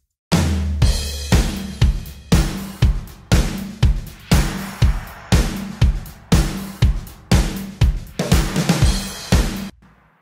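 A programmed pop-country drum kit, blended with extra tracks that reinforce the backbeats on two and four, plays a steady loud groove of heavy kicks, sharp snares and bright cymbals, with no voices over it.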